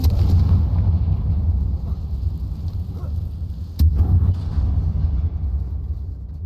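Confringo blasting spell in the video game Hogwarts Legacy, a deep booming explosion with a sharp burst near the middle over a low rumbling background, fairly loud.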